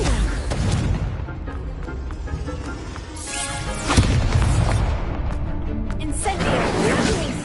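Confringo blast spells bursting in the wizarding action game Hogwarts Legacy, several booming explosions with whooshes amid busy combat noise over several seconds.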